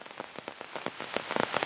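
Heavy rain falls in Dakshina Kannada, flooding the Netravati river near an areca plantation. A dense, steady patter of drops strikes the surfaces close by, growing slightly more intense toward the end, with no one speaking.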